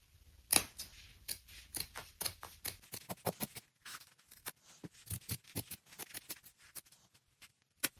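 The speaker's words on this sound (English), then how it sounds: "And now for this hem here, I'm going to cut leaving about 1/2 of an inch." Scissors cut along a fabric hem during a clothing alteration, making a quick run of crisp snips in irregular bursts, close and fairly quiet, with no speech.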